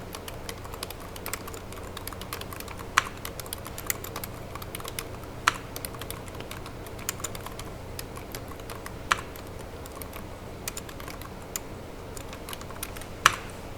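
A computer keyboard is typed on steadily in a quiet room, with soft rapid key clicks and a few sharper, louder keystrokes standing out at intervals, like the enter key being pressed.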